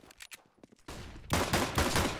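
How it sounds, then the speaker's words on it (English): Flashbang grenade in a video game going off as a sudden loud burst that rolls into a sustained harsh, ringing roar, preceded by quieter clicks and shots. "Flashbang."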